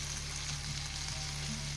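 Chicken and Thai red peppers sizzle steadily in a hot pan, a continuous close frying hiss with no talking.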